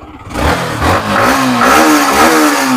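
A 2023 motorcycle engine revs up nearby, loud and rising in pitch with a couple of throttle bursts.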